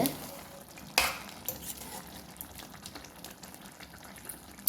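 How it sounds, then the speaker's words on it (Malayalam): Kerala beef curry with banana and ground spice mix stirred in a pan, a sharp scrape near the start, then soft intermittent scraping and low sizzling through the rest, ending with another clatter. "ഇതെല്ലാം കൂടി നന്നായി നമുക്ക് ഇളക്കാം"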